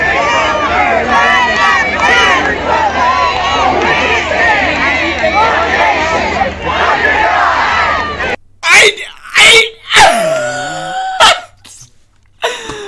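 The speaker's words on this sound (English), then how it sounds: "The crowd is big. Ready to go." A large election-night crowd screams and cheers as a played-back recording, loud and dense for about eight seconds, then cuts to choppy, distorted bursts of shouting.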